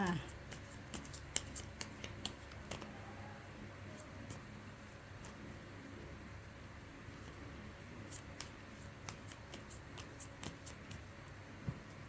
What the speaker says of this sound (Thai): ขอเป็นตัวแทนสับไพ่ตัดไพ่ให้คนเกิดวันอาทิตย์ค่ะ